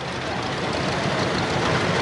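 A 1/3 scale replica of a 1921 Rumely OilPull 30-40 tractor runs at an antique farm fair parade, its engine a steady, loud, unbroken rumble with no talk over it.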